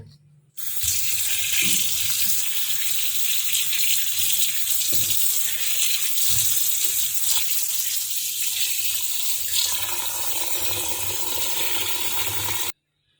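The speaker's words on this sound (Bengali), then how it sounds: "এই যে চিড়াটা ধুয়ে নিচ্ছি" Flattened rice (chira) is washed under a running kitchen tap, a loud, steady rush of water with shifting splashes as the grains are handled. The flow cuts off abruptly after about twelve seconds.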